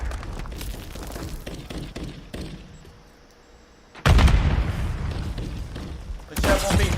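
A video game grenade explosion lands as a sudden loud, broad boom midway, followed by sustained rumbling debris and a second burst near the end, after a quieter stretch of distant gunfire.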